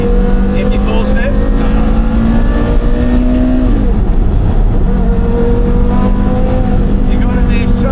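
Porsche Carrera GT engine pulling hard and climbing through a first-to-second gear shift, a loud close harmonic whine that rises, drops sharply at the change, then climbs again, with voices talking over it.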